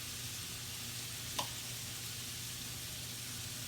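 Hash browns frying in melted butter in a pan, a faint steady sizzle with one brief tick partway through, no voices.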